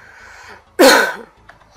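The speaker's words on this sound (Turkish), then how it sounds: "Pardon arkadaşlar, öksürdüm." A single sharp, loud cough bursts out close by, with a low voice murmuring faintly before it and a soft breathy trace after.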